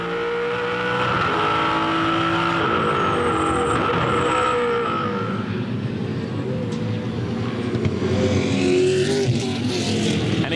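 V8 Supercars racing at Ipswich in 2006 make a loud, sustained engine drone with shifting pitch as cars pass and rise through gears, growing rougher toward the end, with no talk over it.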